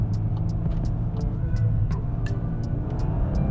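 A Volkswagen Golf R 20 Years Edition hot hatch driving, a steady low engine drone and road rumble inside the cabin with faint intermittent ticks over the top.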